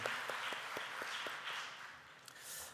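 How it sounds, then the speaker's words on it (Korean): A church congregation applauds during a Sunday worship service, a faint, diffuse wash of many hands clapping steadily, heard from a distance with no talking. "하나님께 영광의 박수 올려드리겠습니다."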